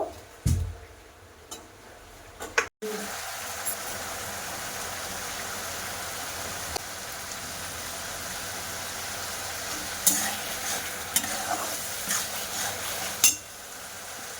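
Tomato paste hits a hot frying pan for a pointed gourd korma, bringing a sharp clatter and then a steady, continuous sizzle, close and even, with a few faint clinks of utensils.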